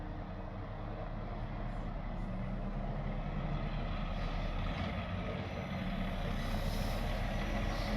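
A Peterbilt truck reverses back toward a trailer during a trailer swap. Its engine drones in a steady, loud rumble, with faint beeping and air hiss mixed in and no voices.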